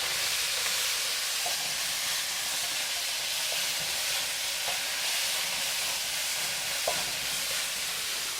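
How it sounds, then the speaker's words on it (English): Meat sizzling in a very hot wok, a loud steady hiss with occasional sharp splattering pops, continuous and close with no talking. "This is probably going to splatter. So that is an awesome sound you want to hear."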